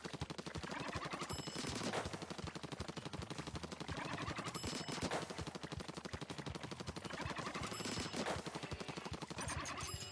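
An ink weapon in the video game Splatoon 2 fires continuously, a dense, rapid rattling spray that runs unbroken for ten seconds with regular surges in intensity.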